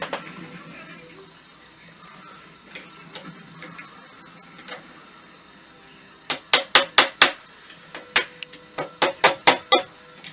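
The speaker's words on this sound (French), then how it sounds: "Moi j'utilise un petit chasse-goupille et je tape avec un tournevis pour pas taper trop fort." A small pin punch is struck with a screwdriver on a Mosin Nagant 1891/30 rifle, giving sharp metallic taps in irregular clusters, quiet at first and then a loud run of about a dozen close strikes.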